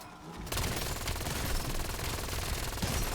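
Rapid automatic gunfire blazes at a beehive in Black Ops 7 Zombies, a dense, loud, continuous burst starting abruptly and running without pause.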